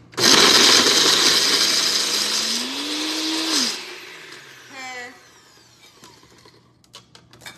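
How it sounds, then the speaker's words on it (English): A blender whirs loudly as it blends a fruit and cranberry juice cotton candy smoothie, its pitch rising as the motor speeds up, then stopping abruptly, followed by a few clinks and faint knocks. "It should blend right up."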